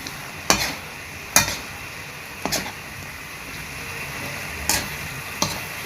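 Chicken Bicol express with chili being stirred in a pan: five spaced scraping strokes of a spoon over a steady, soft sizzle, close by with no talking.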